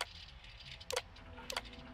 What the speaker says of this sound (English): rewarding this click sound here